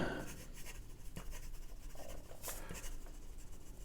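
A Leonardo Messenger fountain pen with a JoWo No. 6 nib and turquoise ink writes quickly on paper, giving soft scratchy strokes in short bursts, close and quiet with no speech.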